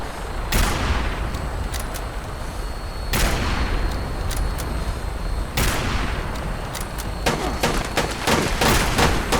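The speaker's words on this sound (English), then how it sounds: "Shooting a grabber now." Gunfire in Fallout 76 aimed at a grabber during a launch-prep quest, loud single shots spaced a few seconds apart, then a quicker cluster of several shots near the end over steady background noise.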